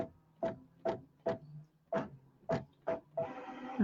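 A sewing machine stitching in slow, labored bursts, about seven evenly spaced thumps over a low hum, then a short faster run at the end, close and with no talk.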